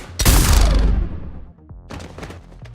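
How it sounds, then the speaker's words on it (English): A sudden heavy burst of gunfire in Mass Effect 3 booms close and loud, decaying over about a second, followed by a lighter cluster of rapid shots and impacts. "Now open fire."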